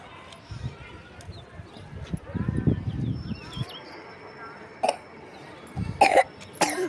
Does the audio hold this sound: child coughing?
yes